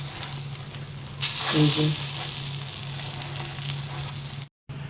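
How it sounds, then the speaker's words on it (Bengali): Gola ruti, a batter flatbread, fries in a pan with a steady crackling sizzle that swells briefly near the start, and a short spoken remark comes over it. "দেখুন, আরেকটা আমি ভেজে নিচ্ছি ওরকম করেই।"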